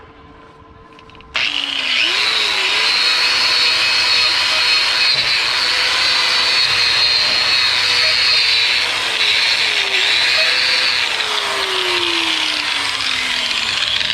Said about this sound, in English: let's clean it up with the grinder first.